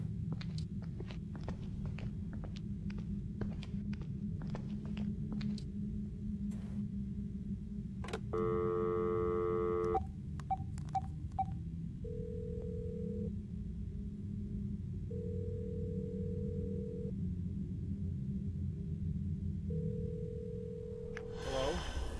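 An office desk phone in a horror video game gives a steady electronic tone in several short even bursts, preceded by a quick burst of beeps, over quiet clicks and low ambient hum, with no one talking.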